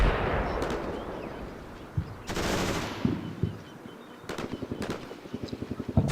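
Gunfire in the military combat game Combat Mission Shock Force: a run of sharp, rapid automatic shots with booming impacts, a burst near two seconds and a rattling volley toward the end, loud and without talk.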